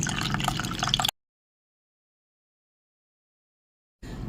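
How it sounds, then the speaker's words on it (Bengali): Orange juice with pulp runs through a strainer in a short wet trickling burst, then silence, then the liquid sound briefly resumes, all close by. "এবার আমি এই ছাঁকনিটা দিয়ে জুসটা ছেঁকে নেব"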